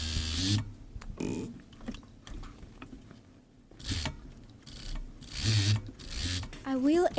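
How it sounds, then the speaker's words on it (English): A serger overlocker stitches around the corners of fabric from a shirt being made into a Christmas pillow, running in several loud mechanical bursts of rapid whirring with quieter pauses between them, close by. "gonna serge first the corners and all around, and then I'm gonna top stitch it with a sewing machine"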